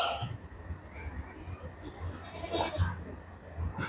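Goat bleating at a Hyderabadi Amber breedline farm, a few fairly faint calls rising over low background rumble and noise.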